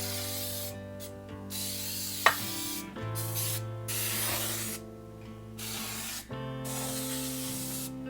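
Baker's Joy baking spray is sprayed into an 11 by 8 baking pan in several close, hissing bursts with short pauses between them, and no one talks.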